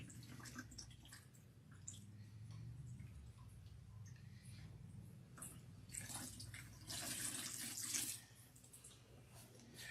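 Water runs steadily from a tap while hair and scalp are rinsed on wash day. It makes a faint, continuous hiss and patter with a brief louder splashing surge near the end, and no one talks over it.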